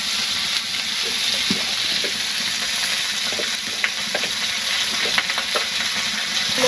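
Pieces of sweet gourd sizzle and fry steadily in a hot pan, a continuous bright hiss with scattered small pops and crackles, close and fairly loud throughout.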